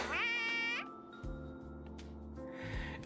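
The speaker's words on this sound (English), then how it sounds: "It says whoa, but it sounds like a cat." A small creature in Honkai: Star Rail lets out a high, cat-like meow-whine, followed by lower game sounds and a brief second cry near the end.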